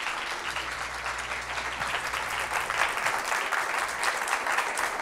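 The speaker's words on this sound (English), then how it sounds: "Let's give Matthew another round of applause." Steady applause from a lecture audience after a research presentation at an annual named lecture, dense clapping filling the room without pause and with no talking over it.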